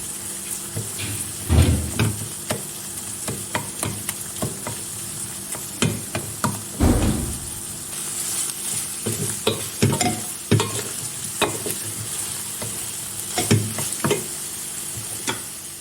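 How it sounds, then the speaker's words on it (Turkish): Tomato paste fries in a pan for chicken sauté, a low, steady sizzle broken by repeated sharp scrapes and knocks of a utensil stirring, with a faint running-water sound in the background. "Salçamı da şöyle kenarda güzelce kavurarak içerisine ilave yapacağım."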